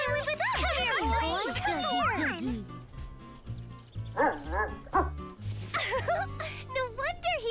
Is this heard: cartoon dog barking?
yes